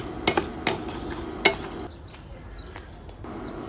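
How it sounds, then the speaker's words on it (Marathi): Cumin and dried coriander dry-roasting in a pan for Goan mutton xacuti, with a soft crackle and a few sharp clinks of a spoon stirring early on, then a quieter, faint sizzle. "आणि अर्दो टीस्पून जिरे भाजया, चड भाजप ना।"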